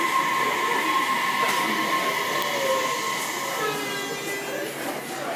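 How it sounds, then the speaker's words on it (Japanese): A six-car Tobu Railway local train pulls into Kasukabe Station, a steady loud rumble with brake squeal rising over platform hum. A faint public-address voice sits beneath the noise. "7番線に野田市方面各駅停車柏行きが6両編成で参ります。"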